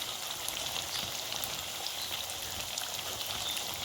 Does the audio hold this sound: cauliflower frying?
yes